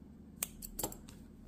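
Scissors snipping crochet yarn while finishing a crocheted carnation keyring, a few quick close metallic snips in a row over a quiet background.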